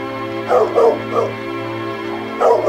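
A dog barks furiously in several sharp, loud bursts, some with a whimpering yip, over a soft sustained musical backdrop in an audiobook sound effect.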